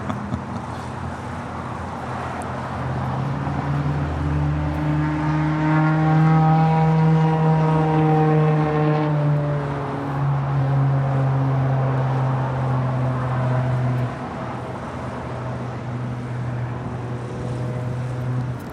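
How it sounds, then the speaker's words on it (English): An American Airlines Boeing 737-800 arriving at LAX from Austin, Texas, passes close by as a loud, steady jet roar with a rising and falling whine that swells mid-pass and then eases into a lower rumble. "Texas, American Airlines Flight 1424 on the 737-800"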